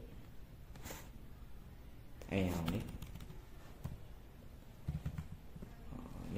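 Keys on a computer keyboard are tapped in short, irregular bursts while a server name is typed into a browser. The clicks are close and fairly quiet, with a faint voice murmuring underneath.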